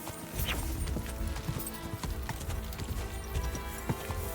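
Horse hooves clip-clop steadily in Kingdom Come: Deliverance II, a medieval open-world game, with a busy, loud mix of repeated impacts and scattered clatter throughout.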